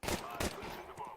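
Rapid bursts of gunfire crack through a Counter-Strike esports match, several close, loud shots in quick succession with a softer echo of fire trailing off.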